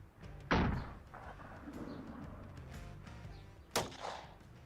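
A gun held close to the face fires with a sharp, loud crack early on, then a quieter room tone follows before a second, smaller bang near the end.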